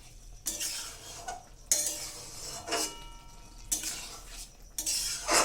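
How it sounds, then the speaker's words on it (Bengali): Maggi masala being stirred into a dish in a pan, with five or six rough scraping strokes of a utensil against the metal, roughly one per second, over a light sizzle, close up and with no voices. "ম্যাগি মশলাটা দিয়ে ভালো করে মিশিয়ে নেব ওর সাথে"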